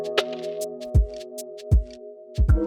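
Lo-fi drum groove built from a shaker sample, with soft rhythmic kicks about every three-quarters of a second over a sustained low chordal bed, crisp high shaker ticks in between, and a short gap in the pattern.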